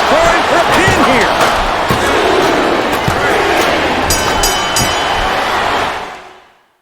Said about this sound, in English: This capacity crowd is solid.